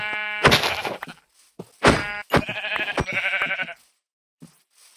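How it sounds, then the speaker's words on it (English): Sheep in the video game Minecraft bleat several times in close succession, loud and near, with short pauses between the calls and a quiet thump at the end. "What is that? Three sheep."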